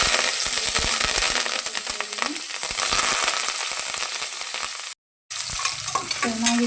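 Onion and curry leaves fry in a pan, giving a steady close sizzle with scraping stir strokes and one brief drop to silence near the end, and no talking.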